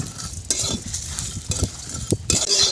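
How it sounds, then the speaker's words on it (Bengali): Whole spices such as cloves, cardamom, star anise, cinnamon, coriander, cumin and peppercorns dry-roast in a pan, with repeated scraping stirs and light sizzling close by. "মশলা ভাজা হয়ে গেছে, এবার আমি নামিয়ে নিচ্ছি"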